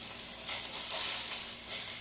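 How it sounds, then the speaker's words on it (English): Sausage breaking up in a hot pan gives a steady, close sizzle and crackle that swells and eases slightly, with no talking. "I'm gonna put it into a hot pan and break it up"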